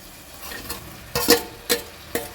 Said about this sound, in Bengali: খুন্তির সাহায্যে একটু নেড়ে চেড়ে মিশিয়ে নিচ্ছি